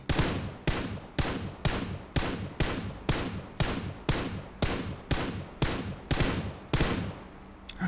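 Video game gunfire heard through wireless gaming earbuds: a steady series of about thirteen heavy, booming shots at regular intervals, each with a short decaying tail, loud and close, with no talking.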